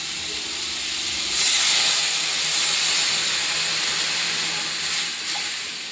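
Water hits a hot pan of frying spice paste with garlic and bay leaf, giving a loud, continuous sizzling hiss that swells briefly and then holds steady.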